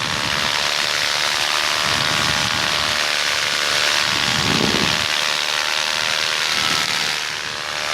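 Paramotor engine at full throttle in flight during a long foot-launched cross-country triangle, a loud continuous droning buzz with steady propeller hum and wind rush throughout.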